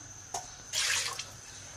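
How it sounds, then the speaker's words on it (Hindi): Water is poured into a cooking pot for shami kabab, with a short splash followed by a fuller gush of pouring lasting about half a second, faint and close against a quiet kitchen background with a steady hum. "पानी ऐड करेंगे हम"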